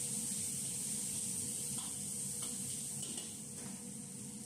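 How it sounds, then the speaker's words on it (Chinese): Scallion segments, ginger slices and garlic slices sizzle in a little hot oil left in a wok after mutton slices were removed, a steady, dense crackling hiss that continues without a break and with no talk. "下入葱段、姜片、蒜片爆香"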